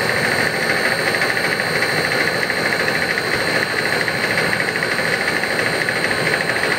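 An air conditioner compressor on a unit fitted with an electronic expansion valve runs with a loud, steady, close mechanical hum and rattle that holds unchanged throughout, with no voices.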